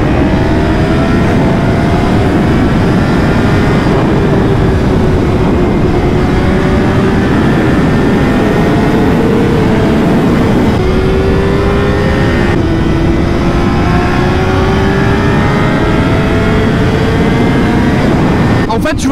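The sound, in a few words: Honda CBR 600 RR motorcycle engine revving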